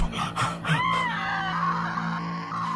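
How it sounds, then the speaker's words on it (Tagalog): A girl screams in fear in a drawn-out, wavering cry that rises and falls over a steady low hum, loud and close, with no talking. "ay sigaw pa rin siya ng sigaw na parang walang pakialam"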